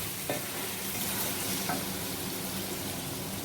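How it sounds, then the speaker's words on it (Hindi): Chicken briefly fried in cooking oil is stirred in a pan with turmeric and red chili, giving a steady close scraping and soft sizzle with a few sharper utensil knocks, no voices. "हल्दी और सुरख मिर्च ये डालूंगे। इसको मिक्स करेंगे।"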